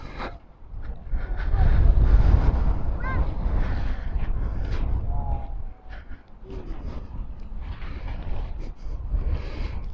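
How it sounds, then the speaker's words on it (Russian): Gusty wind buffets the microphone with a low, steady rumble, rising and falling in strength, with faint rustling and brief tonal squeaks in the background. "Вот такой вроде бы ветер небольшой."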